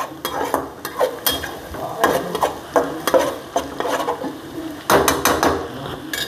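A spatula or spoon scrapes and clinks repeatedly in a pan while spiced scrambled egg bhurji sizzles softly, with irregular stirring strokes close by and no talking.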